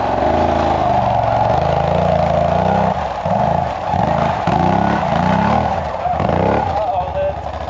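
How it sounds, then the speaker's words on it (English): An ATV engine revs and bogs while riding rough offroad terrain in Alaska, loud and close, with the pitch rising and dropping repeatedly as the throttle is worked over holes. "I am definitely rusty at riding an ATV like this"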